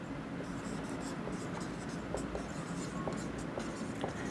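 Scratchy, continuous writing on a board during a maths lesson on square roots, steady and close, with faint scrapes and small taps of the writing tool throughout.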